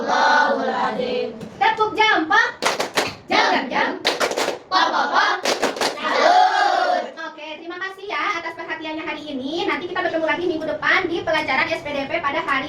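A group of people claps in rhythmic clusters of quick hand claps, as in a patterned Indonesian clapping game during a religious talk, with short bursts separated by lively voices speaking and chanting between them.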